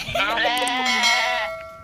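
On a farm, a human voice imitates a goat's bleat with a single wavering, nasal cry lasting just under two seconds, loud and close.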